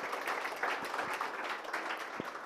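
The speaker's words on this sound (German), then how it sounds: "Einen Applaus für meine Kandidaten." Steady audience applause at a German panel session, a dense continuous wash of many hands clapping with no break, fairly close and even in loudness.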